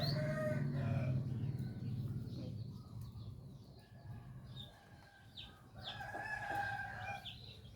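Chickens cluck and murmur close by while a rooster crows, with other birds calling faintly in an outdoor farmyard setting.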